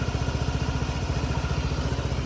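A Honda Forza 125 scooter engine idles steadily, heard right at the exhaust, a quiet, low even putter with a fast regular pulse and no voices.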